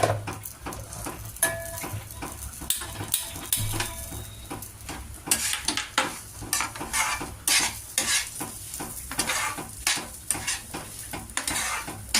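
Steady sizzling of food frying in a pan, broken by frequent scraping and clinking strokes of a spoon stirring it, close up and continuous with no voices.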